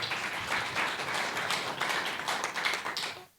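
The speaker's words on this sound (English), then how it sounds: "Applause." An audience at a venture capital panel event on health technology applauds in a dense, even patter of clapping that runs steadily and then cuts off sharply at the end.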